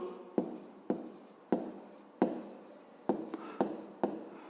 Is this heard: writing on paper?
yes